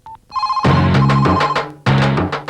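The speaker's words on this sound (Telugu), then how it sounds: "ఫోను మోగుతుంది." A phone ringtone plays loudly and close by: a bright melodic ring that repeats in two bursts after a brief opening beep.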